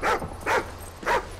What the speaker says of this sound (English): What is this dog up to?